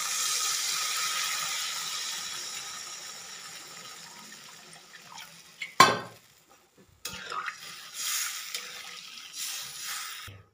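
Lukewarm water pours into a pan of frying spice masala for a fish curry, a steady rushing splash that gradually tapers, then sharp clatters and brief stirring sizzle follow, close and without talk.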